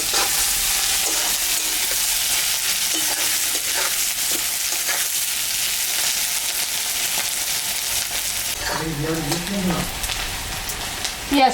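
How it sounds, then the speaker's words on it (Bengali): Onions frying in oil give a constant close sizzle with stirring clatter, and a voice briefly speaks near the end. "পেঁয়াজটা ভাজা ভাজা হয়ে গেছে"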